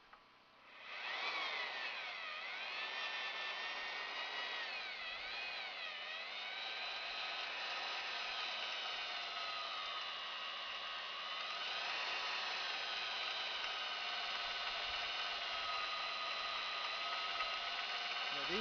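A power drill bit bores steadily into wood, a continuous loud whining grind that holds for many seconds with slight pitch wobbles as the bit is leaned on.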